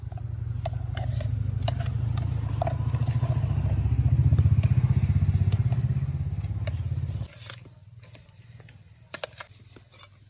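A kitchen mixer grinder blending jackfruit with jaggery syrup, a loud, steady motor whir that runs for several seconds and then cuts off, followed by a few light clatters.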